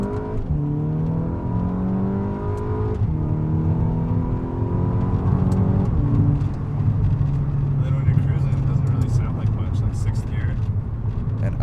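A VW Mk6 GTI fitted with a Borla S-Type exhaust revs up several times, engine pitch rising and falling in repeated climbs before settling into a steady drone, loud and close.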